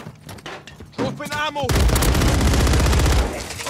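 Frag grenade blast in Call of Duty: Modern Warfare III, a loud booming burst that swells and holds for over a second amid battle noise, following brief voice and gunfire.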